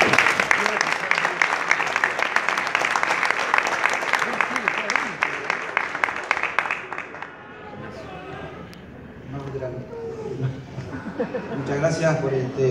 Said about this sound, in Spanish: El aplauso para los chicos de La Consecuente.